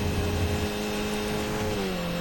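Race car engine in a sim racing video game, holding a steady drone at high revs with a slight pitch drop near the end, loud and continuous with no talk over it.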